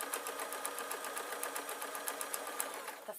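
A sewing machine stitches a seam into the main fabric, running steadily and close with a fast, even mechanical whir and rhythmic needle ticks throughout, no voices over it.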